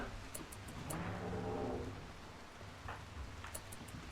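Rainfall in the colony-building video game RimWorld, a faint, steady soft hiss of rain with a few light taps and a brief low rumble partway through.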